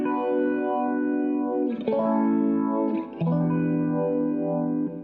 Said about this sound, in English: And then I use the delay just to stab the chord.